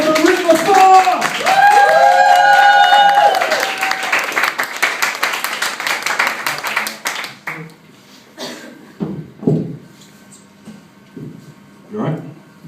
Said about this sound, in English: stamp your feet, clap your hands, and get ready to say for Riks